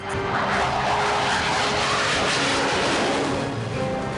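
Loud, continuous fighter jet engine roar fills the whole stretch with a dense, steady rushing noise and no pauses or voices.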